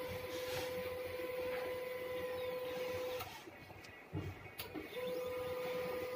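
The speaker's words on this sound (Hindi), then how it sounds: "ये प्रिंटर में प्रिंट आ गया।" An HP LaserJet 1020 Plus printer prints a test page: a steady close mechanical whir and hum with a brief pause and clicks midway before the drive resumes.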